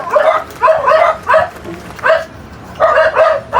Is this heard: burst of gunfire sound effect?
no